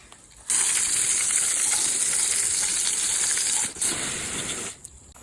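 A steady, loud hiss of water spray rinsing the rack of a four-wheeler, starting abruptly, running continuously, briefly cutting out near the end, then resuming before stopping.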